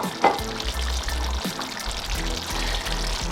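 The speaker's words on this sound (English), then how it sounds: "So what I'm gonna do now is to add the carrots and the butter beans" Chopped carrots tumble into a sizzling pot of oxtail stew, a brief clatter landing over a steady, fairly close frying hiss that continues throughout.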